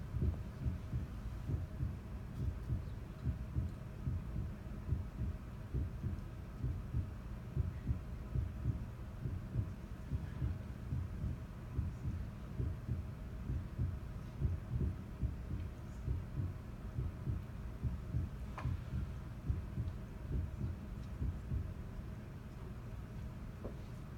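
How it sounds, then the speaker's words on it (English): A recorded human heartbeat pulses as a steady, regular run of low, soft thumps that repeats evenly throughout, close and continuous over a faint hum. "So this is my heartbeat."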